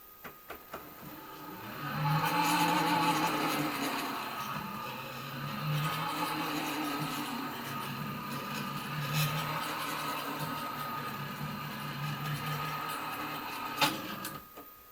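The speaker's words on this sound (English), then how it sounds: "the CFS system does have this kind of chair dragging across a wooden floor vibe" The filament system of a Creality K2 3D printer grinds and scrapes in a long, steady mechanical drone with a few sharper clicks, like a chair dragging across a wooden floor.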